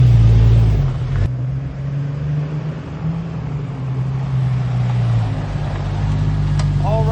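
A car engine runs steadily on a test drive after routine under-hood maintenance, a loud low drone with road rumble throughout and a sharp knock near the start.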